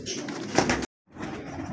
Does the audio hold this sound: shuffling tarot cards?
no